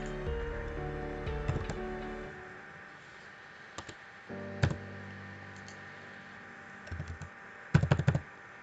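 A few scattered clicks and short bursts of computer keyboard typing during a C++ programming lesson, quiet and close, separated by pauses over a steady low hum.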